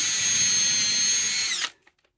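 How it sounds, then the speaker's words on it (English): A small drill bit boring into leather whines steadily at high pitch for about a second and a half, then spins down and stops, leaving a couple of faint clicks. "But the smaller drill bits work pretty good."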